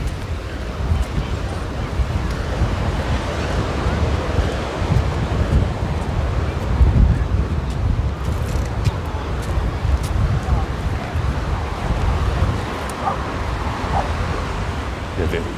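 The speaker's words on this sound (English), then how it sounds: "the ocean waves are coming in, are breaking on shore just enough to generate a nice sound" Ocean waves break on the shore at Redondo Beach, California, a continuous rushing wash mixed with wind noise on the microphone, steady and moderately loud, with people talking underneath.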